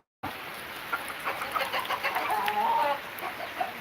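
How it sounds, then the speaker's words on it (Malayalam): Chickens cluck in scattered soft bursts nearby, with a short higher call midway over a faint outdoor hiss. "കോഴികൾ ഇതേ ഇപ്പോൾ ജസ്റ്റ് ചിലപ്പോൾ ഇങ്ങോട്ട് വരും"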